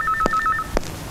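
Telephone tones in a Telugu film scene, a short run of bright electronic beeps broken by two sharp knocks or clicks, close and clear with no voices.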